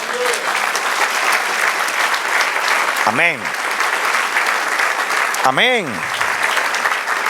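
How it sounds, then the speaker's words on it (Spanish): A church congregation applauds during a sermon, steady clapping throughout that is joined twice by a voice calling out over the hands. "Dale un aplauso, Señor."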